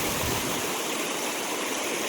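The 115 Creek flows beside a campground along the Alaska Highway near a beaver dam, giving a steady, close rushing of water with no break and no voices.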